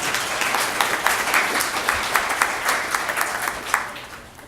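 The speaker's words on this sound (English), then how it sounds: "give yourselves a round of applause." An audience at a family celebration breaks into sustained applause, many hands clapping in a dense, lively burst with no speech over it.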